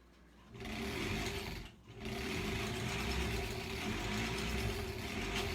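A home sewing machine running in reverse while piecing a quilt block, a steady close mechanical whir with a brief pause near the start before it resumes and runs on continuously.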